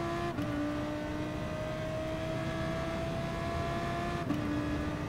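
Audi race car engine at La Sarthe in the racing game Gran Turismo Sport, a steady loud onboard whine holding high revs, with two quick gear shifts dropping and resetting the tone.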